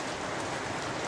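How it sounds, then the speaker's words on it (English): Steady rain drums on a house roof, a dense continuous hiss at moderate level with no pauses or other sounds on top. "can you hear the loud noise? That's rain on my roof."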